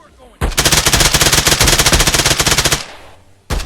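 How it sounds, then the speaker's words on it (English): A Vector submachine gun in the video game Exfil Zone fires one long, loud, rapid full-auto burst of more than two seconds, then stops, with a short new shot or burst right at the end. "Let's go ahead and put these shots out and take a look at the Vector's recoil."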